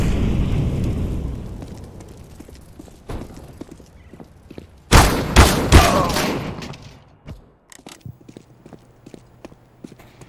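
An incendiary grenade goes off in a video game, a cluster of loud bursts around the midpoint followed by scattered crackling and thuds, with no talk.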